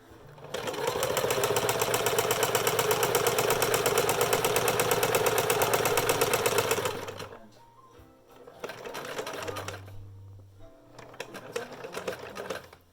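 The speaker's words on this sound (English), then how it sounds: "we wanna sew down the other side of the elastic" A sewing machine runs steadily for about seven seconds, stitching down the side of a homemade fabric face mask. It stops, then whirs again briefly in two shorter bursts, close and fairly loud.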